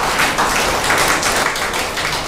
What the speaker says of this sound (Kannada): ಆದ್ದರಿಂದ ಈಗ ಬಹುಮಾನ ಬಂದವರಿಗೆ ಅಂತ ಇನ್ನೊಂದು ಚಪ್ಪಾಳೆ ಬರಲಿ.